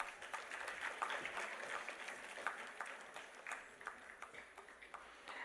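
Audience applause at a university day celebration, a soft, steady wash of clapping from a crowd, fairly distant and even, with a few sharper claps standing out.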